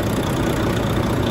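Volvo FH 460 with a D13C diesel engine running in a workshop after cylinder head repair and reassembly, a steady continuous idle rumble, close and loud throughout.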